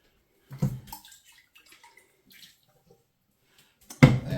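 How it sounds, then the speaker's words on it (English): Fresh water splashes and swirls inside a whole-house water filter housing during a rinse, with a short burst near the start and a louder close splash at the end, nearly silent in between. "I'm just going to rinse just a little bit of fresh water in there."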